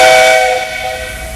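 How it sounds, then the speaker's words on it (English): A train conductor's whistle gives one loud, steady, shrill steam-style blast that holds and slowly eases off, heard alone. "Did you get your whistle fixed, Mr. C?"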